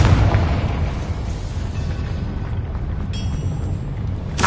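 A Confringo blasting spell explodes in Hogwarts Legacy, its rumbling blast sustained at a steady, dense level with brief bright crackles near the end.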